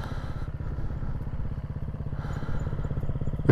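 Enduro motorcycle rolling down a steep incline on a trail in Spain, engine puttering steadily with a low rhythmic thump and light clatter throughout, close and continuous.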